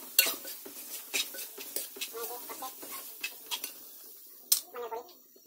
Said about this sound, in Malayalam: നന്നായിട്ട് ഇളക്കി കൊടുക്കുന്നു.